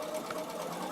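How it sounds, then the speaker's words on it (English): A Bernina sewing machine stitching bias piping onto fabric hums quietly in a short burst, a soft mechanical whir with faint rapid stitching. "now I will just sew straight onto my fabric"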